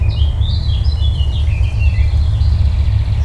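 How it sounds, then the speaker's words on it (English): Terns calling at a harbour wetland in Belfast, thin high chirps repeating over steady loud low wind rumble, the birds fairly distant. "at this time of year the terns are all in"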